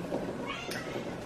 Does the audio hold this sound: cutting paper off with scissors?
no